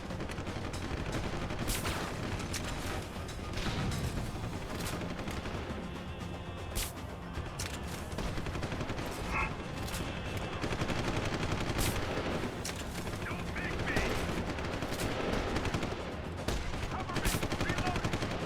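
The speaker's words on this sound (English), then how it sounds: "I feel like half these shots aren't landing, but keep trying." Gunfire in Deus Ex: Human Revolution, dense sharp shots and bursts rattling through a continuous combat mix of explosions and impacts, with a voice talking at points.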